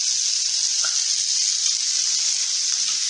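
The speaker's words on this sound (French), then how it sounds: "vous avez fait revenir au préalable les lardons avec tous les épices" Bacon lardons frying with spices in a pan give off a steady, close sizzle that holds evenly throughout, with no voices over it.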